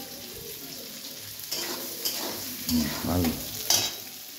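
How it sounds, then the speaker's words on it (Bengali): Onions frying in a kadai (wok), stirred to brown, with a steady sizzle broken by a few louder scraping stirs near the pan; a brief spoken word occurs. "তো পেঁয়াজটা কড়াতে দিয়ে দিল, ভালো করে ভেজে নেবে লাল লাল করে।"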